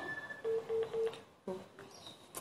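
A telephone dialing to call someone back plays a quick run of three evenly spaced beeps, then a short pause and a few fainter tones at a quiet level.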